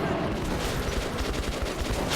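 A rapid stream of close, loud automatic gunshots in the video game Metro 2033 pounds on without a break.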